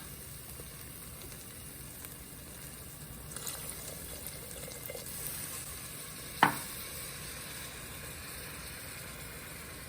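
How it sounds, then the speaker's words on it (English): Risotto in a pan after stock is added, stirred with a soft continuous sizzle and liquid bubbling, with one sharp clink of the spoon against the pan partway through. "Now that the stock is added, I'm going to give it a stir"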